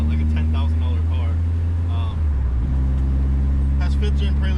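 A built all-motor G22 Honda Civic exhaust running through two Vibrant resonators and a Vibrant ultra quiet muffler drones with a steady low rumble, shifting pitch slightly midway, loud and close beneath someone talking.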